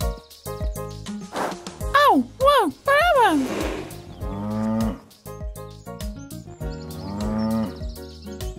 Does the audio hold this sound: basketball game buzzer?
no